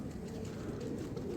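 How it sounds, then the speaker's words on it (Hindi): A one-tail pigeon coos close by in a soft, continuous low murmur with no voices over it. "वन टेल का कबूतर है, कुरीज कर रहा है"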